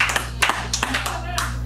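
A hand clap marks a beat in a sung sea-shanty verse during a live tabletop game session; a few sharp claps sound close, with voices talking and singing around them.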